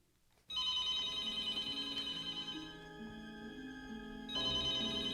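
A telephone rings with a steady electronic trill, close and moderately loud, starting abruptly and continuing with a brief dip before swelling again, no voices in a Scream movie trailer.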